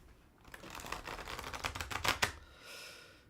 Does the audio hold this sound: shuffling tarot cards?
yes